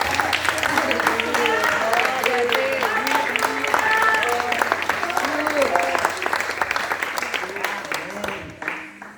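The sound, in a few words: church congregation applause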